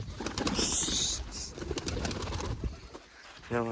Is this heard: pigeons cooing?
yes